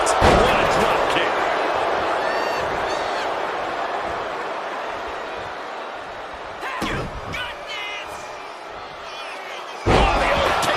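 In WWE 2K26, wrestlers slam into the ring with heavy thuds amid loud crowd noise, with a couple of sharp impacts standing out later and a commentator talking over the action.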